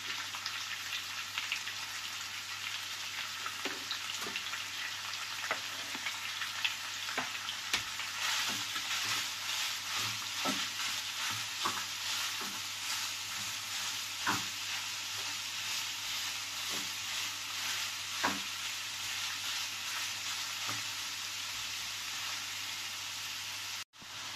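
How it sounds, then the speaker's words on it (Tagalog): Ground meat frying in a pan for a spinach tortilla with white cheese, a steady dense sizzle and crackle throughout with occasional soft stirring scrapes, no voices. "Habang niluluto po natin yung ating giniling."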